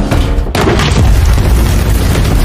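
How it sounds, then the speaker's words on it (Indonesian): A grenade blows up in a film scene after a booby-trapped bag triggers its pin, producing a loud, dense boom with rumbling debris that sustains throughout. "Begitu tas diangkat, maka memicu sebuah pin granat untuk meledak."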